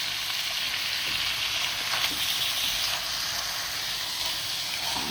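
Rabbit pieces and onions fry in a pan, giving a steady, close, bright sizzle with faint crackles and stirring throughout, with no voices.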